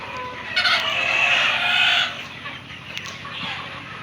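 Fayoumi chickens on a large poultry farm in Habiganj, Sylhet cluck and crow in a dense, steady chorus, loud and close, with no talking.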